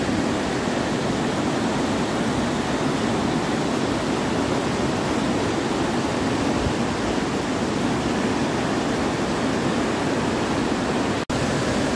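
Water crashes steadily at Namaste Waterfall, a dense, unbroken roar close by that holds for the whole stretch with no voices, broken only by a brief click near the end.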